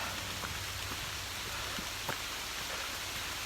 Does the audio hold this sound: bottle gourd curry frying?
no